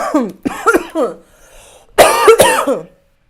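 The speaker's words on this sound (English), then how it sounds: "See, you see me coughing." A man coughs several times in harsh bursts, pauses, then lets out a louder, rougher fit of coughing, close and clear against quiet.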